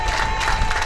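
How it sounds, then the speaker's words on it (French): Congregation applause and cheering at a baptism service, a loud, dense crowd noise of clapping and voices with a steady tone running underneath throughout. "applaudissez."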